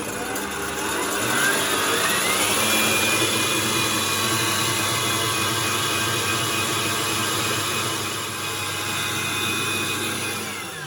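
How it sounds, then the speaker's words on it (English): An electric mixer fitted with a balloon whisk beats egg whites toward soft peaks for a meringue, giving a steady, loud motor whine that shifts slightly in pitch as it runs continuously. "we're going to whisk the egg whites first until they form soft peaks"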